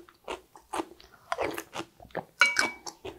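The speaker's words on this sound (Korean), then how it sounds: "정말 무가 아삭아삭하니 너무 맛있어요." Crunchy dongchimi radish water kimchi, made with pickled Cheongyang chili, is bitten and chewed in a series of loud, close, crisp crunches with short pauses between bites.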